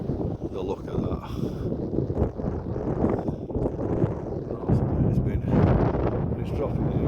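Strong wind buffets a hilltop in the Dark Peak District, a continuous rough roar with gusty surges dominating the whole stretch.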